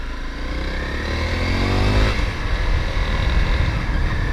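A 2016 Honda CRF250L dual-sport motorcycle pulls away in a low first gear, its engine note rising in pitch as it accelerates, loud and close from the rider's position.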